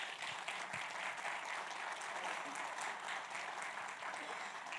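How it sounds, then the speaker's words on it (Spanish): A conference audience at a business process management event in Lima applauds steadily. The dense clapping sounds somewhat distant and fairly faint, and it holds at an even level for the whole stretch. "hasta yo pediría una salva de palmas, un aplauso para Mauricio."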